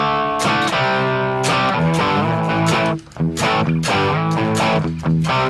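Crunchy overdriven electric guitar on a humbucker pickup through a Marshall amp with vintage room sound plays chopped, rhythmic chords, loud and alone, with a brief drop in the middle.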